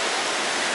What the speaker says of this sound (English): there's the River Tees again. Some nice looking rapids down there.